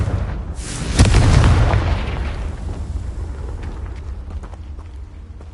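A Confringo spell explodes in Hogwarts Legacy on PS5: a single loud, close boom erupts about a second in, then fades into a long rumbling decay with scattered crackles.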